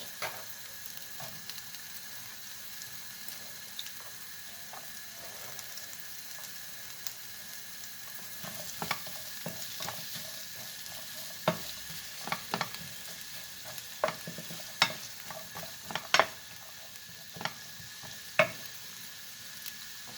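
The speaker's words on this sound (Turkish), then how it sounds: "tereyağımızın üstüne yarım ay şeklinde kestiğimiz soğanlarımızı alıyoruz" Half-moon sliced onions frying in butter, a steady close sizzle broken by irregular scraping and clacking as they are stirred, the stirring knocks growing busier toward the end.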